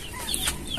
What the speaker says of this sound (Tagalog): pagkainin natin yung ating mga alagang manok.